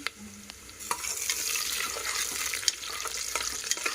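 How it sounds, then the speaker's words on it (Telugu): Onions frying in oil or ghee, a fairly quiet steady sizzle with scattered sharp clicks and scrapes of stirring throughout. "చూస్తున్నారు కదా, ఆనియన్స్ మంచిగా వేగుతున్నాయి."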